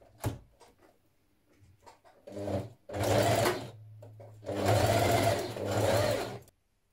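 A sewing machine stitches a bias-cut dress facing in place, running in two sustained bursts after a short, quieter run and scattered handling clicks, loud and close with no talking.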